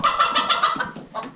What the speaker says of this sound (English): one of the chickens is upset about something